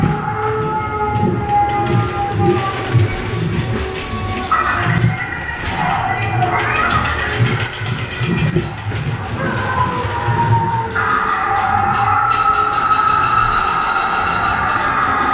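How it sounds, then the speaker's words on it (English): A heritage ghost train ride at Folly Farm runs continuously with a steady rumble and rattle of the cars, plus tonal whines and squeals rising in the middle, with little or no talk. "That's a ghost train."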